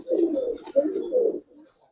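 Low, rolling coos from a Giribaz pigeon sound close and clear in two long phrases, trailing off into a faint murmur.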